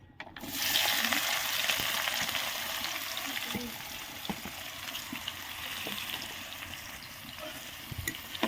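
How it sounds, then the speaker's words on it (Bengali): Onion drops into hot oil and fries with a soft, steady sizzle, starting abruptly and then easing slightly, with faint scattered pops and clicks of the pan. "তেল গরম হয়ে গেছে, এবার আমি তেলে পেঁয়াজটা দিয়ে দেবো"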